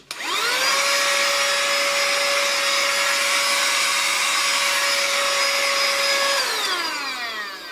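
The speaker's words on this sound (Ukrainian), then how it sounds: "коли наш пилосмок на зарядці, він також працює" A cordless vacuum cleaner runs steadily while on its charger, a loud continuous whine with a strong tonal hum that starts up quickly, holds for several seconds, then falls in pitch as the motor winds down near the end.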